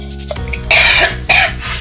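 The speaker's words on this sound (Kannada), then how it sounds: "ಇವತ್ತು ಕೆಮ್ಮು ಕಫ ಜಾಸ್ತಿ ಆಗ್ಬಿಟ್ಟತ್ತೆ" A person with a cold and phlegm coughs in a kitchen while cooking, several close, loud, harsh coughs in quick succession with short breaths between them.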